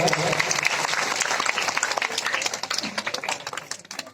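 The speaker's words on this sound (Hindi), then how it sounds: "एक बार जोरदार तालियों से इनका स्वागत" A crowd at a Bhagwat Katha religious gathering applauds loudly to welcome a guest, a thick burst of clapping that thins into scattered individual claps toward the end.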